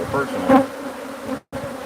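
Bees swarm densely in a hive of roughly 100,000 to 200,000, giving a loud, close buzz with layered droning tones. The swarm hums steadily under a brief spoken word, then cuts out for a moment before resuming.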